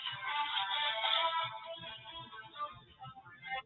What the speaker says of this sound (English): That's Billy's phone